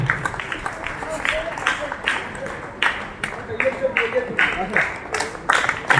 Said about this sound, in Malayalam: നല്ല കൈയടിച്ച് പ്രോത്സാഹിപ്പിച്ചു കൊടുക്കാൻ നന്നായിട്ട് കൈയടിച്ചു